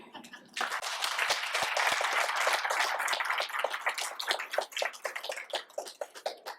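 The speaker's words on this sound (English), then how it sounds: "So let's applaud them" An audience applauds in a hall, the clapping swelling quickly to a full, loud burst and then thinning into scattered individual claps as it dies away.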